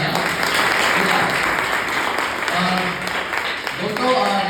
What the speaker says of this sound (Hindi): तो आप अपने लिए जोरदार तालियां बजाएं, जोरदार तालियां।